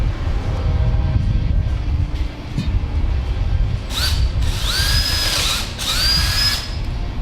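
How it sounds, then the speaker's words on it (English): A power drill whines through a metal clevis hole on a 1955 Ford F100 wiper motor in two or three short, loud bursts, its pitch rising as it spins up, over a steady rumbling background. "we're going to open this clevis up with the drill bit"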